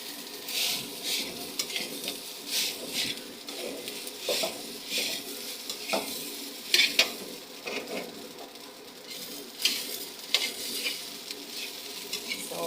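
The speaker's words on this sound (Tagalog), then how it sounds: "Hindi natin ito titigilan sa paghalo-halo" Egg fried rice with garlic stirred in a hot pan, a steady sizzle under repeated scraping and clinking of the utensil against the pan, with sharper knocks now and then, close and unbroken, no talking.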